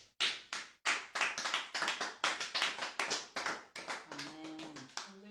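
A church congregation claps loudly and continuously in close, rapid bursts of applause for the Lord, with a brief voice rising near the end.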